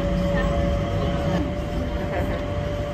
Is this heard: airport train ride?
yes